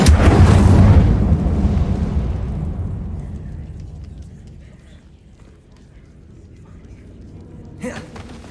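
An Incendio fire spell going off in Hogwarts Legacy, a loud close whooshing burst of flame that rumbles and slowly fades over several seconds, then a brief sharp effect near the end.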